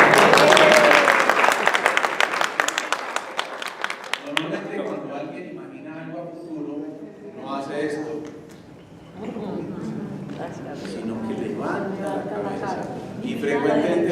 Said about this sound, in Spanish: antes un aplauso para el actor